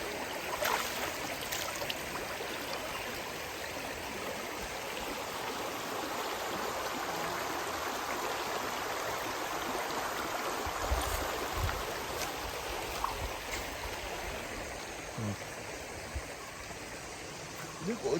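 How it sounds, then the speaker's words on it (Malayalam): Clear water from a waterfall flows steadily down a shallow stream, a constant close rushing and trickling wash that fills the whole stretch, with a faint voice now and then. "ആ വാട്ടർഫാളിന്റെ വെള്ളമാണ് ഇങ്ങോട്ടേക്ക് വരണേ"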